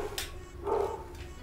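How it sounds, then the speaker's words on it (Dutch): A pet dog barks close by, giving a couple of short, sharp barks spaced apart over a steady low background hum, with no talking. "Hoor je dat geblaf ook van mijn hond?"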